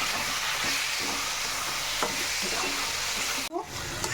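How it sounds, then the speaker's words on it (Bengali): Lote fish frying with salt, turmeric, coriander and cumin powder in a pan while being stirred, giving a continuous loud sizzle with scraping strokes that cut off abruptly near the end. "ভালো করে আমি নেড়ে নেব।"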